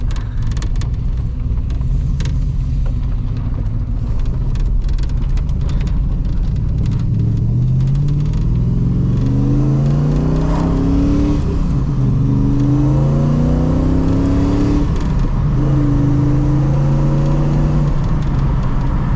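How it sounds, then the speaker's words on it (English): Car engine with a 5-speed manual heard from inside with windows up, a steady cabin drone that rises through several revving pulls, pitch climbing and dropping between gear changes. "As you can hear, it sounds fantastic in this thing"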